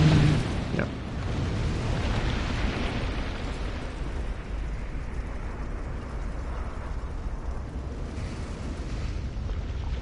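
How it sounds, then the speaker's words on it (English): Explosion in the video game Dark Souls 2: a sudden loud blast at the start settling into a long, dense low rumble that stays steady and heavy to the end, with no talk over it. "Explosion. Yep."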